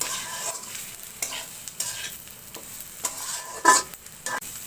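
Pointed gourd (potol) slices frying in a pan, a soft steady sizzle broken by a spatula stirring and scraping at irregular intervals, with one sharp metallic clink near the end.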